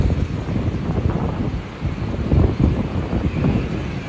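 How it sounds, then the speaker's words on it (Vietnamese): Sea waves wash in at Vàn Chảy beach on Cô Tô island, a steady broad roar of surf mixed with heavy wind buffeting the microphone, swelling slightly in the middle. "Đây sóng đây."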